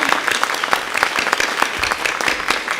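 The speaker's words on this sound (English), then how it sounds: "Can we give a round of applause to Kristen and Jennifer as well?" An audience at a county Teacher of the Year ceremony applauds, a dense, continuous patter of many hands clapping close by for the whole stretch.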